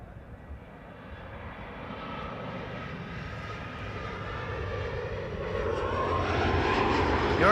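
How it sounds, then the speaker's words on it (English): A KLM Embraer 175 jet landing at Amsterdam Schiphol, its engine roar rising steadily from faint to loud as it approaches and passes nearby, with no one speaking. "the next Embraer already landing over here. Embraer 175, KLM flight 1828, arrival from Stuttgart"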